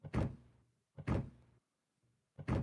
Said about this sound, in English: It's like an actual real stomp, like a person stomping on a floor.